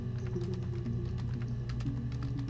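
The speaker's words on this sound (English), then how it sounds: "So let's type in our identifying tags here." Rapid keystrokes on a computer keyboard, a steady run of light clicks over a low background hum, close and continuous for a couple of seconds with no voices.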